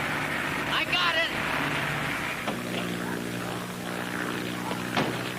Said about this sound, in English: Do you think you can land that plane, Mr. Howell?